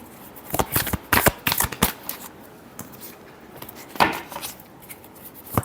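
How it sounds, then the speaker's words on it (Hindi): Tarot cards shuffled by hand in a series of crisp riffling bursts and soft snaps, close and clear, with short pauses between flurries and a final shuffle near the end. "Last shuffle."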